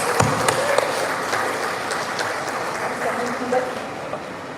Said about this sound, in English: Shall we actually welcome them with a round of applause?